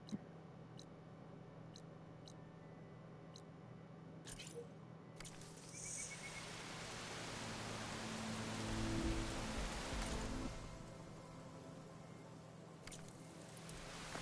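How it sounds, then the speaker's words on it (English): Steady rainfall in the video game Horizon Forbidden West, a dense hiss of drops filling the scene and swelling louder midway before easing, with faint insect-like chirps and occasional clicks. "Can't hear much over the rain."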